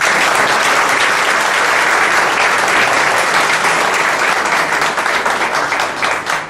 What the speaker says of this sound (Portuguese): eu peço uma salva de palmas para ele